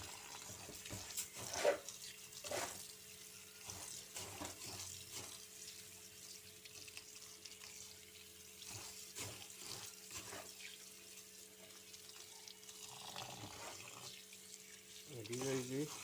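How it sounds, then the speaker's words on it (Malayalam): Rice is washed under a running kitchen tap for biryani, with faint water splashing and sloshing in the sink, soft and intermittent amid background kitchen noise. "നമ്മളിവിടെ അരി കഴുകുകയാണ്."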